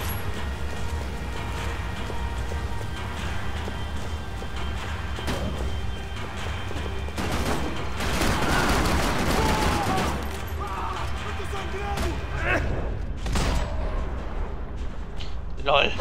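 Bursts of gunfire crack through a Max Payne 3 firefight, rapid shots and impacts over a dense game soundscape, with someone talking over the action.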